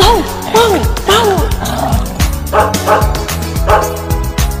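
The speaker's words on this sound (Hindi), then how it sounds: "मैं तो सो रही थी मुझे कुत्ते ने जगाया," Repeated cartoon-style dog barks ring out in a lively Hindi children's rhyme, loud and rhythmic over bouncy music.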